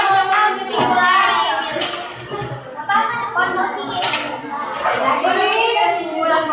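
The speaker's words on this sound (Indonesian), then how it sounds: "kasih tepuk tangan untuk teman-teman" Classroom children clap for their classmates. The clapping runs under loud, overlapping voices that dominate throughout.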